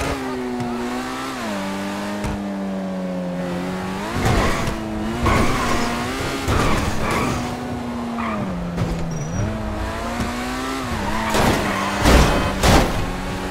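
A car in a GTA video game revs hard with a whining, rising and falling engine note, and repeated tire squeals and skids break through as it swerves, all loud and continuous.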